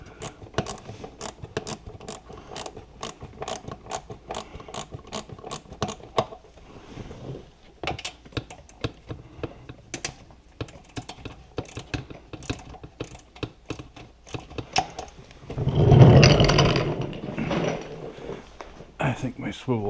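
A ratchet with a swivel socket works bolts loose on a Can-Am Spyder RT body panel: rapid, steady clicking for about six seconds, then sparser clicks and a louder rustling burst near the end, with some talk in the background.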